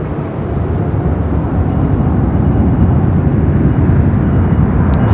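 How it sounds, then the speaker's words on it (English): Air Premia airliner at LAX rolling for takeoff on runway 24 right, heard as a steady, loud, broadband jet engine roar that holds constant throughout without any pause. "Air Premia now rolling it down to 24 right."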